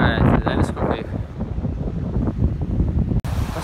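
Strong sea wind buffets the microphone on a narrow sand spit by the sea, a steady loud roar of gusts and wind noise with no talk, cutting out briefly near the end.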